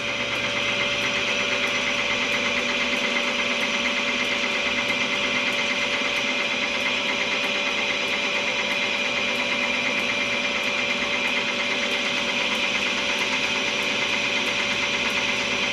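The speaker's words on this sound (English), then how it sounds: "That noise you can hear is a little bit of swarf falling on the wheels." A Ford Zetec crankshaft spins at speed on a balancing machine, making a steady, loud mechanical hum with a fine repetitive ticking as bits of swarf fall onto the wheels. The sound is continuous throughout, with no voices.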